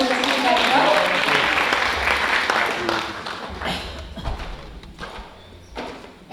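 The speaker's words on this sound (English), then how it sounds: "Give another round of applause." Audience applause for a teaching award winner at a district ceremony, a dense burst of clapping that gradually thins into scattered claps, with some voices underneath.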